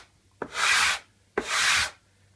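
Two slow, even strokes of sandpaper rubbed across a piece of wood for guitar herringbone inlay work, each a crisp close scratchy rasp lasting about half a second with a short pause between, no voices.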